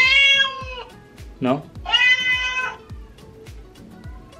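A young cat cries and meows in drawn-out, high wavering calls, one long cry at the start and another midway, with a short spoken question from a person in between, fairly close and clear.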